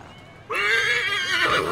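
A horse whinnies in the video game Assassin's Creed III, a loud, drawn-out neigh that starts suddenly and holds for over a second with no talk.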